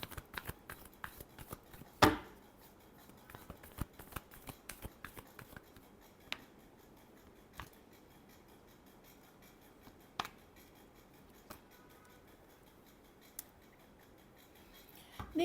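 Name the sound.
shuffling tarot cards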